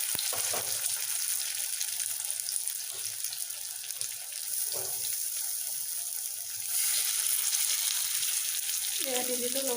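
Chojina leaf mixture frying in oil in a pan, a steady close hiss and sizzle running throughout, louder toward the end, with faint clinks of utensils and no voices over it.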